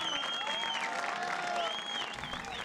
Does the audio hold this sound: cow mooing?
no